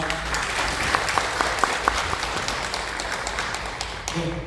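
Audience applause at a seminar launching the DJI Mavic 3 Enterprise drone in Korea, a steady dense wash of clapping with a few sharper claps standing out, holding evenly before thinning near the end.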